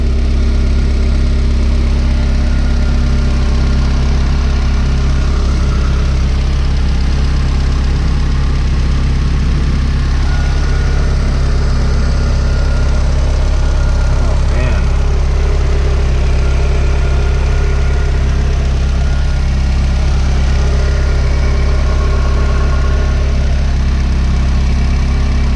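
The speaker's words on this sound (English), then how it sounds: "So I got my car running." A Honda EG hatchback fitted with an H2B engine idles steadily up close, a constant low rumble with no speech over it.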